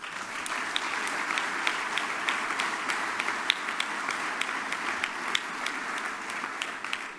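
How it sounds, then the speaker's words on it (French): A crowd applauding at a political party congress, sustained dense clapping from many hands in a large hall, steady and even throughout. "J'aimerais qu'on les applaudisse."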